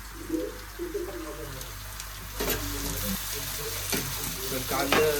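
Onions sautéing in a pan for homemade pav bhaji, a steady close sizzle with scraping stirs and a few sharp clinks, some faint background talk and a bird or two in the distance.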